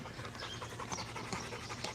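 A dog pants steadily and rapidly at close range, with breathy bursts repeating through the whole stretch over a faint room background.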